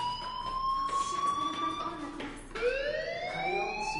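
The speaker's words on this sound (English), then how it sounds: "Hey, do you hear that fire alarm? That means you should be outside." A fire alarm sounds in the video game Life Is Strange: a loud, steady electronic wail that slides in pitch, drops briefly and then rises again, with faint background noise underneath.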